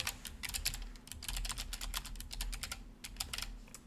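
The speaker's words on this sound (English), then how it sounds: "So let's say here, I'm going to type in" Fingers type on a computer keyboard in quick, uneven bursts of crisp plastic clicks, close by and alone with only a faint steady background hum.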